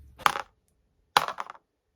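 Dice rolled for a reading challenge, two separate quick bursts of clattering and rattling against a hard surface, close and clear with silence between.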